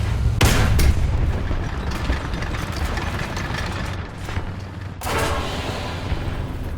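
A Crusader III tank fires its cannon in War Thunder, two heavy booms about four and a half seconds apart over a constant rumbling engine drone, with no speech.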